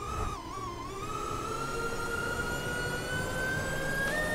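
FPV drone motors whine steadily at full throttle in the Tryp FPV sim video game, a loud, continuous high-pitched buzz whose pitch dips briefly and then climbs slowly, with no talking.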